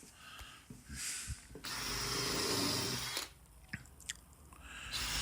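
A drill drives 40mm wood screws into glued scrap wood, with two close whirring bursts separated by quieter handling noises and clicks, all fairly faint.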